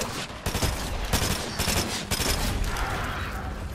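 Rapid bursts of gunfire in Fortnite, a dense fusillade of overlapping shots with short pauses between volleys, loud and close, with no talk over it.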